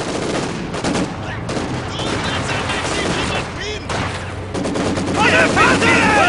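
Machine gun fire rattling in Company of Heroes 2 amid a busy battlefield, bursts of shots with booms and explosions layered throughout, while voices shout over the din.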